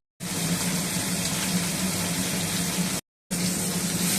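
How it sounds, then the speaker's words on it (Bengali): Fish frying in mustard oil in a kadai gives a dense, loud, steady sizzle that stops briefly after about three seconds, then resumes, with no talking. "মাছ ভাজা চলছে"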